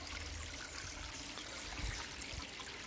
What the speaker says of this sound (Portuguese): A água cai aqui onde é que fica os lambarias, e lá na frente é a bomba lá.